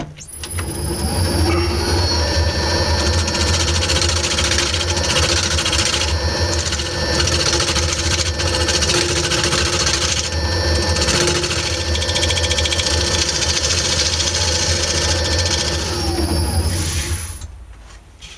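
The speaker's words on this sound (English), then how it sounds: "because I've sanded it to meet the contour of the top part" A power sander works the wood of a natural edge vase, a loud, steady buzzing drone with a grinding rasp that holds close and constant for almost the whole stretch before easing off at the end.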